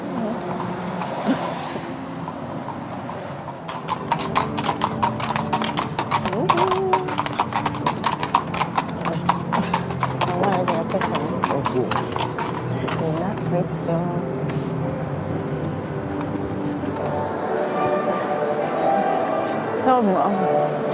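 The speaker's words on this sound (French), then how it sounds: "On est sorti de l'hôtel, la calèche attendait." A horse-drawn carriage leaving a hotel, hooves clip-clopping in a quick steady rhythm on pavement close by, with wheels rolling beneath and people chatting over it throughout.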